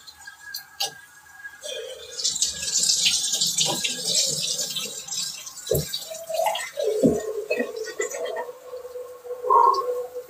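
Shower water runs steadily during a livestream, a broad rushing hiss with dripping and tapping clatter, rising and falling close to the microphone with brief vocal sounds.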